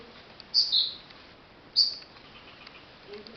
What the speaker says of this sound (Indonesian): Ini udah jam berapa ini burung ini udah keluar juga.